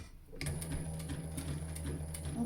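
A sewing machine stitching the start of a fold on a fabric face mask, its steady mechanical hum and rapid needle ticking running continuously and fairly quietly after a brief silent start.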